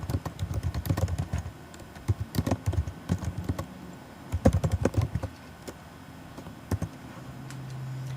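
Typing on a Mac computer keyboard: close, crisp keystrokes in quick bursts separated by short pauses, with a steady hum underneath and no talking.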